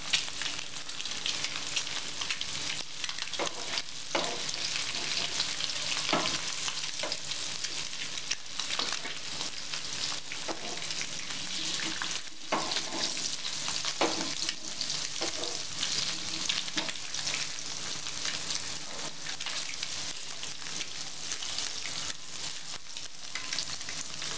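An egg fries in hot oil for egg fried masala, a continuous crackling sizzle close by with intermittent scraping and clinks as it is turned in the pan, and no talking.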